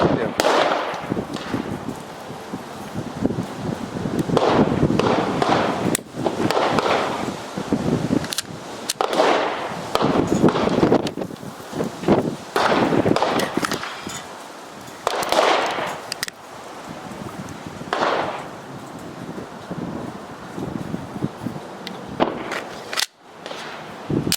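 Gunshots from a 5.7x28mm firearm shooting handloads made with IMR 800X powder ring out in a loud series of sharp cracks at irregular intervals, with people talking between some shots.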